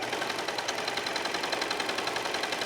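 A serger sewing machine feeds fabric as it stitches around squares, making a steady, fast mechanical whir with an even pulsing rhythm, close and moderately loud.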